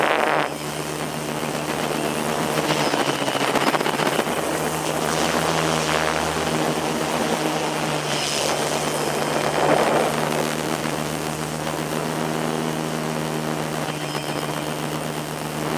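OMP Hobby M1 brushless RC helicopter in flight outdoors, its steady whining rotor and motor drone holding continuously and fairly loud, with slight swells as it moves about nearby.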